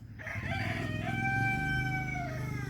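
A molting rooster in a backyard garden gives one full, close crow, a clear drawn-out cock-a-doodle-doo lasting over two seconds.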